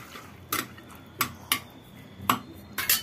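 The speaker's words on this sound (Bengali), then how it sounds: "এটাকে এবার ভালো করে নেড়ে দেব।" Spoon stirring water in a pot while making goghne: five or six sharp scraping knocks against the metal, spaced irregularly, close and fairly clear with no talk.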